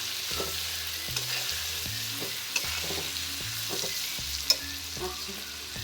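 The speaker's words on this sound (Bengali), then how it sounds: "একটু নাড়াচাড়া করবো টমেটো দিয়ে।" Tomatoes fry in a pan for a snakehead fish curry with a steady sizzle, while a utensil stirs and scrapes them in rhythmic strokes, with a couple of sharp clinks, close and alone.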